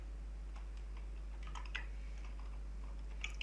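Soft, sparse keystrokes on a computer keyboard while filling in an HTML form, scattered irregular clicks over a quiet background hum.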